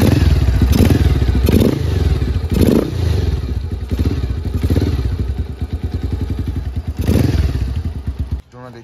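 A fully modified motorcycle with an aftermarket exhaust runs up close and loud, a deep rapid thumping idle with repeated throttle blips and revs before cutting off abruptly at the end.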